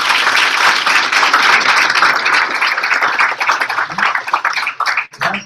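An audience at a graduation ceremony claps in a thick, energetic round of applause that holds for several seconds, then thins into scattered claps before fading out.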